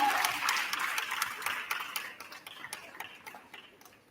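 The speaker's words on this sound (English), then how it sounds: "we have one more round of applause, please" Applause at a university retirement ceremony for an English department professor: a dense wash of many hands clapping, fading gradually over a few seconds with scattered individual claps near the end.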